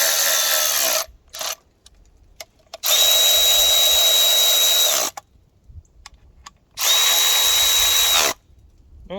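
A power drill tightens a fastener in several bursts: two short whirs near the start, then two long steady runs, each with a faint high whine, separated by quiet pauses.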